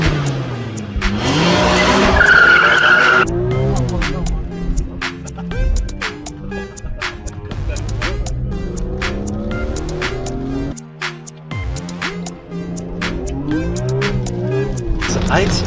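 A BMW E46 M3 drifting on a wet road, tires squealing loudly near the start while the engine roars and revs throughout, with a voice heard over the noise.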